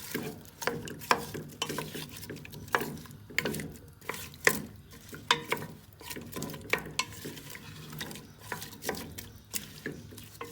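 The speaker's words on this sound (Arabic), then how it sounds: "دابا غنحطها فوق البوطه تشحر لينا" Cow trotters frying in olive oil in a pot on a stove burner, with repeated scraping and clattering stirs over a low sizzle, close and fairly loud, no talking.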